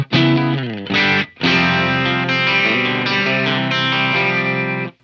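Electric guitar played through a Fender Tone Master Pro digital modeler into a Friedman amp with no pedals, giving loud, crunchy driven chords and sustained notes with short gaps between strums, no voices.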